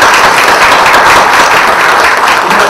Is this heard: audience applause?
yes